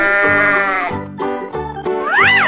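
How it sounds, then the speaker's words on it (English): A sheep bleats loudly and close, a series of wavering baas with a rising and falling final cry. "Sheep."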